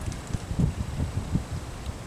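Steady wind blows on a cloudy February day, a continuous low rumbling buffet with gusty swells across the whole stretch and no talk over it.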